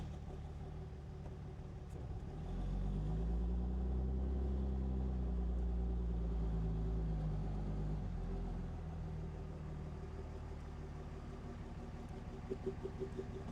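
A Dodge Cummins diesel pickup with a faulty TCM relay and limp-mode trouble starts and idles with a low, steady rumble. It is fairly quiet and heard without any voices.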